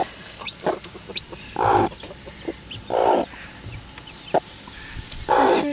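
A mother hen clucks beside her newly hatched chicks, loud, close, repeated low clucks in short bursts spaced about a second apart, with faint peeping and rustling in between and no talk.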